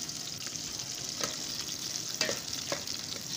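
Bitter gourd and onions stirred in a pan, with a continuous soft sizzle and a few utensil scrapes against the pan, quiet and close, with no voices.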